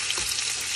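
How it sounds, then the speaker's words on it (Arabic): Chicken frying in very hot oil in a pan for chicken Alfredo pasta makes a brief, continuous, loud crackling sizzle, heard close with no talk. "حتى من نخلي الدجاج بالزيت هو كلش حار يصير شاك"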